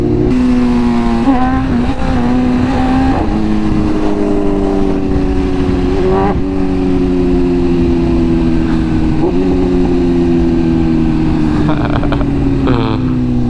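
A BMW S1000RR with a loud aftermarket full exhaust and no catalytic converter revs repeatedly nearby, the engine pitch climbing and settling in several throttle pulls, with popping bursts between revs and the rumble carrying throughout.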